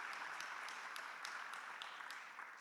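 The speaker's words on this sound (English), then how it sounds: "we can do a first round of applause to our speaker" A symposium audience applauds a speaker, a soft, steady patter of many hands clapping, faint and fairly distant, with little else heard.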